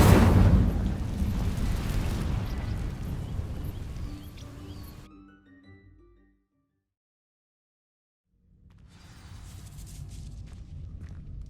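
A loud, rumbling burst of the Incendio fire spell in the video game Hogwarts Legacy, fading out into silence before a low ambient rumble returns.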